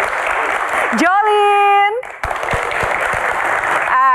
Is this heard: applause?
yes